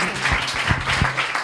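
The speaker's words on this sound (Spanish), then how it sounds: "le vamos dando un aplauso a Elena" Audience applause for a speaker named Elena at a beer chemistry talk, a brief burst of crowd clapping with a few distinct sharp claps standing out, moderately close.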